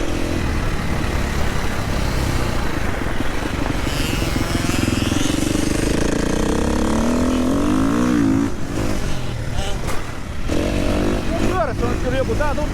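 A kids' motocross bike rides around a training track on a winter practice day, its engine droning and revving steadily throughout, with a coach talking over it.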